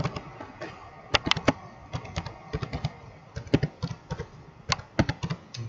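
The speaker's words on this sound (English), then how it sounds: "I'll just type that in." Quick bursts of keystrokes on a computer keyboard while entering an email address, close and fairly quiet, in irregular clusters with short pauses between them.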